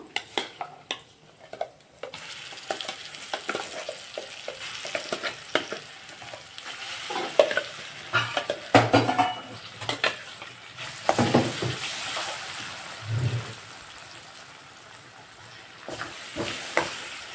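Eggplant tomato chutney tipped from a jar into a sizzling tempering with asafoetida in a pan, with steady frying hiss, scraping stirs and clinks of a spoon against the pan, close and moderately loud.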